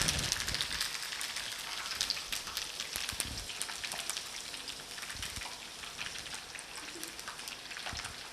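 Curry leaves, garlic and fenugreek fry in hot oil, giving a steady, dense crackling sizzle close by that carries on throughout with no talk.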